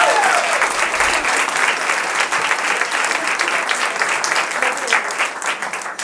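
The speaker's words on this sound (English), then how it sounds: "give them a round of applause" An audience at a stand-up comedy show applauds steadily and loudly, dense clapping sustained throughout with no talk over it.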